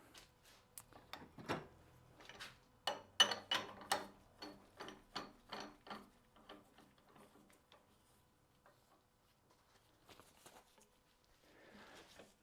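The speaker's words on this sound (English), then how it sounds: "Bring in the tailstock." A lathe tailstock on a wood-turning setup is slid and cranked into position against a handle blank, producing a series of close ratcheting clicks and mechanical clunks that taper off, with quieter handling noises near the end.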